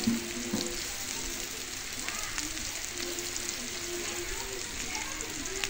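Green chillies sizzle and fry in a pan with spices such as cumin paste, a steady crackling hiss running the whole time with a few faint clinks, while a voice speaks over it.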